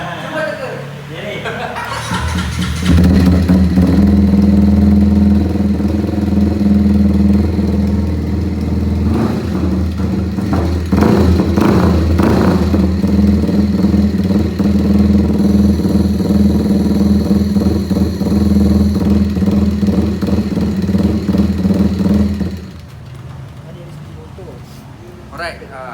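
Redleo motorcycle engine cranks over on its starter, catches and settles into a steady, loud idle for about twenty seconds before cutting off, with some chuckling voices mixed in.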